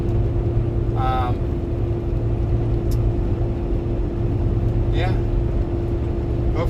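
A truck with a badly shaking front end drives on a humid, cloudy Georgia day, giving a steady, loud engine and road rumble with a constant droning hum and a couple of brief vocal sounds.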